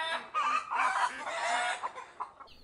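A Podkarpacka hen with chicks gives a short run of soft, low clucks, close by, with a few quieter murmurs trailing off.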